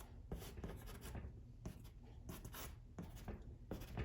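Brush lightly skimming warm white paint across paper, a faint dry swishing in several short strokes with brief pauses between them.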